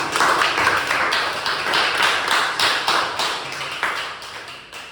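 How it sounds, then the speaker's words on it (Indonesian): A classroom group claps together in a steady, rapid patter, fairly close and even in loudness, with no talk over it. "tepuk tangan untuk nomor 3"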